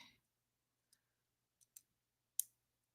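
Plastic Lego bricks snap together while a Haunted House set is built, four faint, sharp clicks spaced irregularly over near silence.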